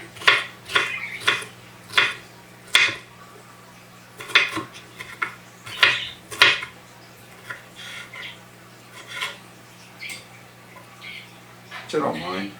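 Chopped vegetables are stirred in a bowl, giving a run of light clinks and scrapes in an irregular rhythm, soft and close, with a low steady hum underneath.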